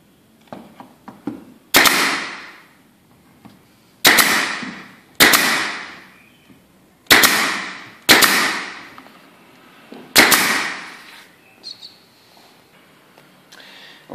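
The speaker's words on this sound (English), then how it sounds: "And I use this air compressed gun, as always, to put some nails." A pneumatic nail gun drives nails into an antique picture frame replica: six sharp, loud single shots spaced a second or two apart, each followed by a short ringing decay, with faint handling clicks between.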